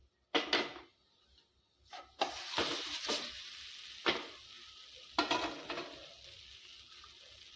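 A Gujarati buttermilk handvo, just flipped in a hot pan, sizzles in sudden bursts that fade and then flare again, close up, with brief utensil knocks and no voices.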